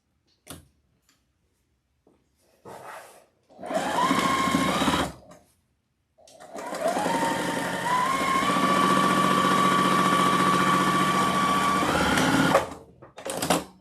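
A sewing machine stitches straight across the brim of a witch hat for a striped Halloween wreath, running in two loud close bursts, a short one and then a longer steady run, with a few small clicks around them.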